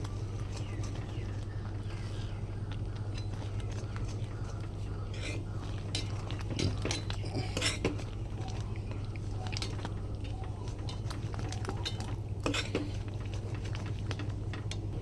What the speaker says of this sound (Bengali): আমি একটা হাতা দিয়ে হাতা দিয়ে হাতার পেছন থেকে ডালটাকে আমি ঘুটে নেবো ভালো করে